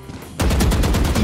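Rapid automatic gunfire in the video game Valorant erupts after a brief quiet lead-in, a loud, dense burst of evenly spaced shots lasting under a second.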